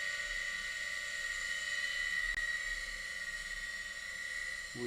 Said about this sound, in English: Listen to that hard drive.